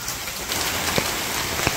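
Steady rain pours down on a village on a rainy day, a dense even hiss with occasional louder drips and drops striking nearby surfaces, no voices.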